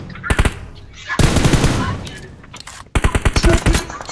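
Rapid automatic gunfire bursts in a multiplayer 2v2 shooter game, loud and close, in several volleys separated by short pauses, with voices talking over the shooting.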